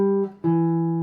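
Guitar playing a song's melody line, two sustained notes rung out cleanly and close, a brief dip between them, with no talking.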